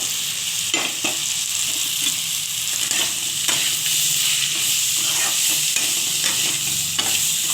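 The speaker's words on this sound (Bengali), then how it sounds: "তো পেঁয়াজটা ভাজা হবে, তো আমি পটলটা তুলে দিচ্ছি, পটল আর এই কুমড়োটা।" Onion frying in a pan with pointed gourd and pumpkin added for an egg fritter curry, a steady loud sizzle with stirring scrapes and occasional clatter throughout, no one speaking.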